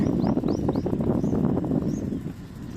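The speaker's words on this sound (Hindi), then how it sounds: "पक्षियों का जो कलरव सुनाई दे रहा है वह इन जंगलों से आ रहा है" Birds chirp in a forest at dawn, with several short rising calls repeating over a dense, steady outdoor ambience that stays fairly loud throughout.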